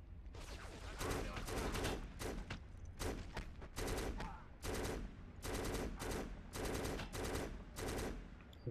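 Gunfire from a gun in the shooter video game Black rattles out in rapid automatic bursts, about a dozen separate volleys separated by short gaps, loud and close with no talk over it.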